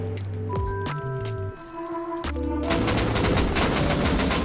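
Gunfire in the survival video game Rust, several sharp shots and bursts mixed with game noise, busier and denser in the second half, with no talking.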